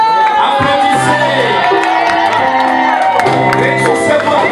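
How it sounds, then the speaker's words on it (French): Wedding guests cheer, shout and whoop loudly at a nuptial blessing while music plays beneath the crowd, and the noise stays dense and continuous throughout. "Applaudissez!"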